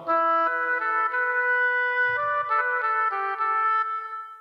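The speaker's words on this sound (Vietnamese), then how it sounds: "tiếp theo đó là tiếng oboe." An oboe-like reed tone from a keyboard plays a slow melody of sustained notes, clear and steady, with a brief low thump partway through.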